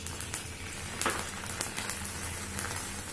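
A cup of milk hits a hot kadhai of desi ghee, setting off a steady crackling sizzle with little popping bursts throughout. No one speaks.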